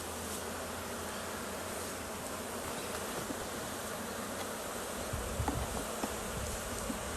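Honeybees buzzing steadily throughout a hive inspection, a dense continuous insect drone close to the hive, with a few brief louder bumps and rustles near the end and no talking.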